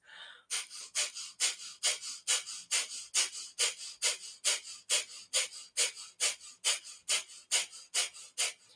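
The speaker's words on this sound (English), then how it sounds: "come back into breath of fire when you're ready" Rapid rhythmic yoga breath of fire: about two dozen sharp, even exhalations through the nose, close and steady at roughly three per second, with no talking.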